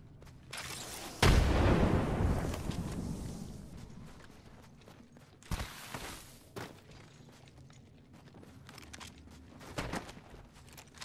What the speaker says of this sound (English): Frag grenade sent.